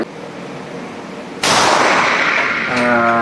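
A single sharp report from a CZ P10C NATO 9mm pistol cracks out loudly at a range, bursting in abruptly after steady background noise and leaving a long ringing decay with a faint tonal hum afterward.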